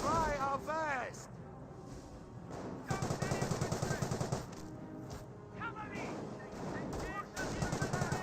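An MG42 machine gun rattles in Company of Heroes, firing bursts of rapid shots among other battle gunfire, with a commentator talking over the fighting.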